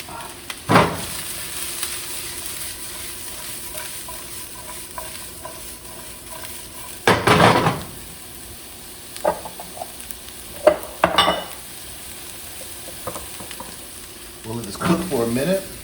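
Crispy bits of bok and chunks of eggplant fry and get stirred in a pan. A steady background sizzle runs underneath, broken by several loud clatters and scrapes, and there is no talking.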